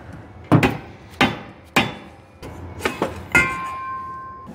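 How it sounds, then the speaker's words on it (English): A dead blow hammer strikes a seized brake drum on a 1967 Ford Mustang axle, five or six sharp, close blows at irregular intervals, with a faint metallic ring lingering after the last hit and no talk. "you'll have to hit with a dead blow or some sort of hammer to get it freed up"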